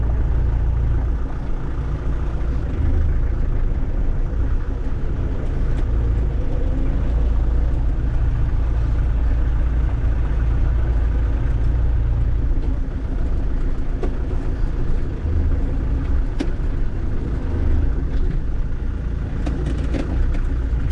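An abandoned Land Rover Defender 110 pulls away under its own power, its engine giving a continuous low, rumbling drone close by, with no talking over it.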